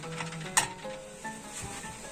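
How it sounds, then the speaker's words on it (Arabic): Onion, peppers and garlic frying in a pan while being stirred, with soft sizzle and a sharp clink of utensil against the pan partway through, fairly quiet and close. "ننزل بالبصل، الفلفل والثومه اخر حاجه."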